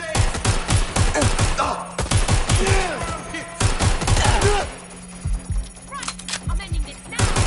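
Gunfire in Watch Dogs Legion cracks out in rapid, loud bursts of shots with short pauses between volleys, while voices shout over the shooting.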